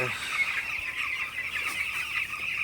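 A crowd of 14-day-old broiler chickens clucks and chatters continuously nearby, a dense layer of overlapping bird calls.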